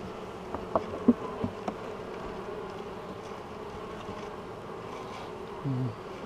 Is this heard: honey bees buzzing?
yes